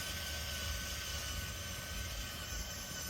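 A Danchee Ridgerunner 1/10 scale RC crawler runs its electric motor at full throttle, a steady whining hum with a low rumble that holds level throughout the short stretch.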